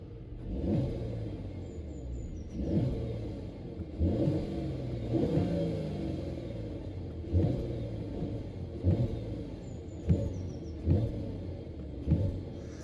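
A Brabus S500 B50 S-Class engine in Sport Plus mode is blipped repeatedly, several sharp rev rises falling back to a deep rumbling idle, heard close and loud with no talking.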